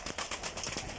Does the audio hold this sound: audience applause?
no